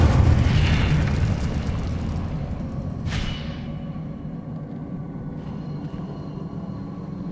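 Incendio fire spell in Hogwarts Legacy blasts out with a heavy rumbling roar, followed by a sharp whooshing flare midway as the flames surge, then a lingering low rumble.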